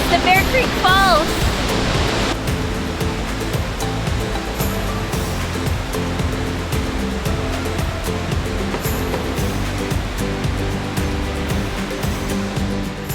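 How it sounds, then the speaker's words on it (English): Bear Creek Falls near a creekside campground at Harrison Hot Springs, British Columbia: a steady, dense roar of falling water fills the whole stretch at constant loudness, with a voice briefly audible at the start. "It's the Bear Creek Falls!"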